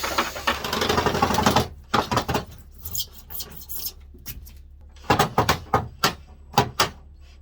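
A steel fish tape wire used as a makeshift drill bit grinds through polystyrene foam during a roof air conditioner install on an RV, first a steady whirring run, then short repeated bursts of squeaky drilling.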